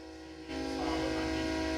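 A loud train horn near Silsbee blares close by, starting abruptly and holding as a rich, sustained chord that swells slightly and continues to the end.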